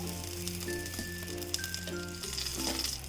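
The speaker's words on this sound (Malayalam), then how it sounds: "ഞാൻ 2 ടേബിൾ സ്പൂൺ ഓയിൽ ഒഴിച്ചു കൊടുക്കുകയാണ്" Oil and ghee sizzle in a pan while fish biryani is cooked Kerala-style: a steady, close frying hiss runs throughout, with faint tonal hum beneath it and no voices.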